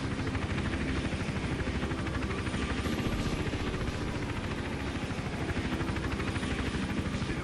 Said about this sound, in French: Bien sûr, il y a toujours cet hélico de malheur qui.